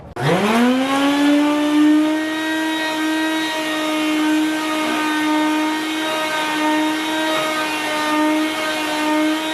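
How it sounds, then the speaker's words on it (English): A loud, steady motor whine with a rising start, holding a constant high-pitched drone throughout as a wet vacuum sucks up water from a Datsun 280ZX's carpet. "grab the vacuum and start vacuuming up all the water that you just put on it"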